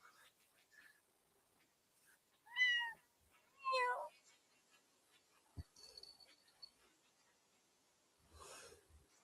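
Two short, high meows close by, with soft rustling and a faint voice murmuring in between.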